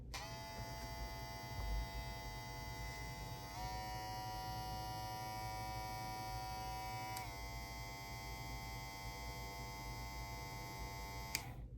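TPOB Play cordless hair clipper running steadily close up, giving a constant electric hum that shifts pitch at a few points as it switches between its two speeds, with no talk.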